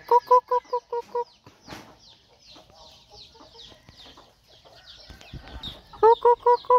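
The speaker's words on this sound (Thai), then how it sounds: "ไก่จะขโมยไก่ต้มอีกแล้วเหรอ" Chicken clucking near a farmyard, a rapid series of short, evenly spaced clucks at the start, a noisy stretch of rustling and faint chatter in between, then another quick burst of clucks close up at the end.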